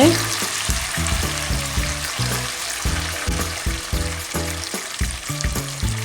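Tomatoes sizzle in a hot pan while a spoon stirs and scrapes them, producing steady frying hiss with repeated rhythmic clanks of utensil against metal.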